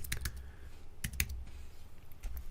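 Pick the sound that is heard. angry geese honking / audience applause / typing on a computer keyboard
typing on a computer keyboard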